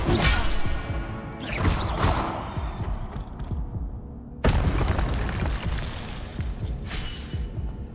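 In the Hogwarts Legacy video game, the Incendio fire spell goes off in two loud booming bursts, each trailing off into crackling rumble and debris.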